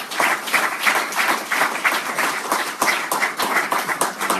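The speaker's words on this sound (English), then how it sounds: "Let's give the Lord a round of applause." A church congregation applauds with dense, sustained clapping from a sizeable crowd, steady and fairly loud throughout, with no talking.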